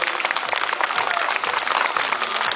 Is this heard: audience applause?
yes